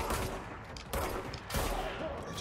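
Bursts of rapid gunfire from the game Control crackle in three clusters, close and fairly loud, with a voice talking over them.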